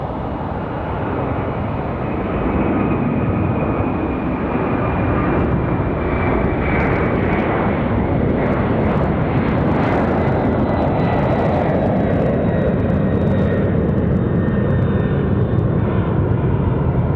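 A Southwest airliner lands on runway 23 left at Raleigh-Durham airport. Its loud, steady engine roar fills the scene, with a whine shifting slowly in pitch as the aircraft passes close by, and no voices are heard.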